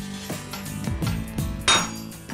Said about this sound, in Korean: 망치 소리는 경쾌한 음악 소리가 되는 것.